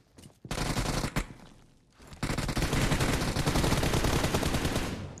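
Sustained automatic gunfire in the mobile battle royale PUBG Mobile: a few sharp shots, a short lull, then a long, loud, continuous stream of rapid shots with no talking.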